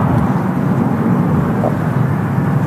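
A Norwegian airliner taking off down runway 23 right at Manchester Airport, a loud, steady broadband jet roar that stays constant throughout, with no talk over it.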